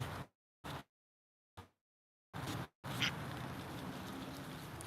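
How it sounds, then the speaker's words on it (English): Ducks quack on a duck farm in short bursts broken by silence, then a longer stretch of continuous quacking near the end, moderately loud and close. "I hate the ducks."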